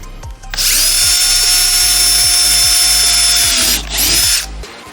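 A power drill bores a hole in a golf cart panel, a loud high whine that spins up, holds steady for about three seconds, dips briefly, then revs again before stopping, heard close with no talk.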